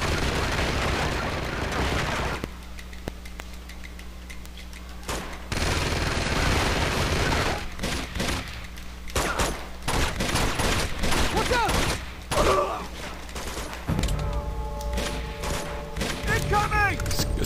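Gunfire in the video game Uncharted 2: Among Thieves, with bursts of rapid automatic shots and heavier booming blasts, loud and close, separated by short quieter stretches of game ambience and music.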